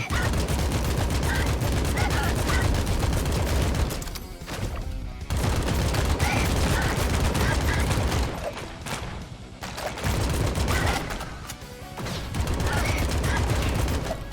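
Rapid bursts of gunfire from a recoiling gun in the shooter game Ak-Xolotl, dense and loud, broken by a few short pauses, with mechanical clanks between volleys.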